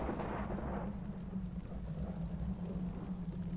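Steady rain with a low rumbling roll of thunder outdoors in the adventure game Geheimakte Tunguska, a continuous dense wash of falling water at moderate loudness with the rumble strongest at the start.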